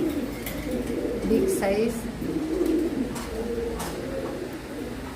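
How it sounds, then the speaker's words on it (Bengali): Pigeons cooing at a market stall selling breeding pairs, including Mili racers, with a steady low murmur of coos throughout and someone talking over them. "মাশাআল্লাহ কবুতর জোড়াটি খুবই ভালো"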